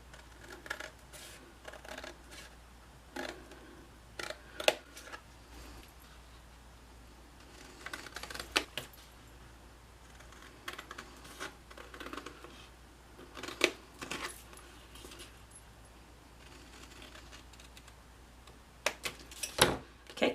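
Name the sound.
scissors cutting cardstock along score lines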